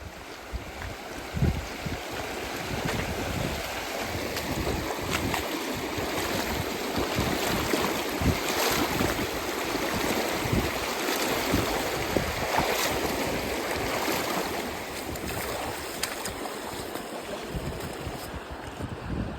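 Steady rushing of flowing water while wading across the River Feshie in a Cairngorms glen, a dense continuous wash of splashing and current that stays loud and even throughout, with no talking.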